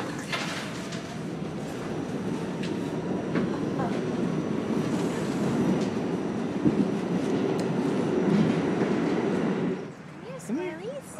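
A train rumbles and clatters steadily on the rails as it arrives, loud and continuous for most of the moment before easing off, with people talking faintly over it.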